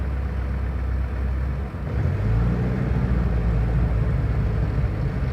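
A turbocharged Volvo project car idles rough and rich, a steady low engine rumble throughout, loud and close, with a slight dip near two seconds before settling back into a heavier, even idle.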